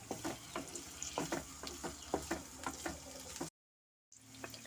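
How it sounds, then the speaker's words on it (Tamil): Onions fry in oil for a paneer gravy while a spoon stirs them, with a steady sizzle and a run of scraping, knocking strokes before a short break of silence. "வெங்காயம் போட்டு நல்லா வதக்கிக்கலாம்."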